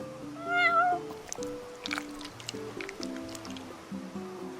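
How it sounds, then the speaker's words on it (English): A cat in the video game Final Fantasy XV gives one clear, close meow over soft background music, followed by small squishy eating sounds and light drips. "You're one spoiled cat."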